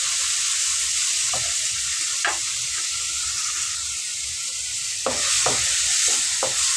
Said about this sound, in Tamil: இப்போ அது வெங்காயம் நல்லா வதங்கட்டும்.